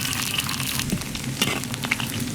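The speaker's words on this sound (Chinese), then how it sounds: "锅里倒点油，加入葱姜" Scallion and ginger frying in hot oil in a wok, giving a steady close crackling sizzle with small pops throughout and no talking.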